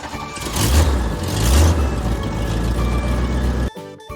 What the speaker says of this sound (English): This is the Jeep sound.